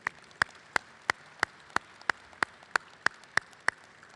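At a military change-of-command ceremony, a single person claps at a slow, very even pace, about eleven sharp claps in a row, distinct and isolated against a quiet room.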